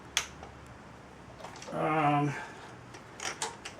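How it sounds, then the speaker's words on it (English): A metal bracket is bent by hand during an engine swap on a 2008 Pilot, giving a short strained creaking groan of about half a second between faint clicks and handling noises nearby. "I need to bend this bracket a little bit though"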